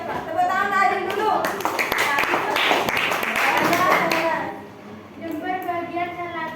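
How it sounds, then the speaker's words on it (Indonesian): A group of children in a classroom clap for a classmate, a brief round of hand claps mixed with young voices talking. "Tepuk tangan Adil dulu"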